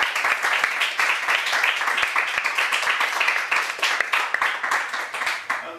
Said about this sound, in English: ladies and gentlemen, come big round of applause for everyone